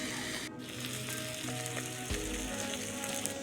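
Onion frying in a pan over a lowered gas flame, with a steady close sizzle and a few stirring scrapes and clinks running through the whole stretch, no voices.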